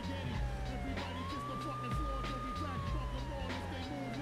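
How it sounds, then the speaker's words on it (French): Police car siren in the video game True Crime: New York City, a steady wailing tone rising and holding over continuous engine and traffic rumble, with faint talk underneath. "mais tu mets la sirène"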